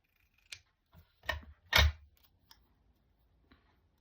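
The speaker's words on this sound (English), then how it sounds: "I'm going to use my big scissors for this" A few crisp snips of big scissors cut through paper, close up, in an otherwise quiet room.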